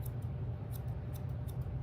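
Thinning scissors snip through a dog's fur during grooming, a quick series of about six crisp, close metallic cuts over a steady low background hum.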